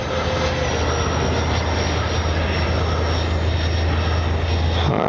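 Freewing 80mm A-10 V2 RC jet with landing gear down makes a low pass in dim light, twin ducted fans giving a steady loud rushing whine with a low hum underneath, holding constant throughout.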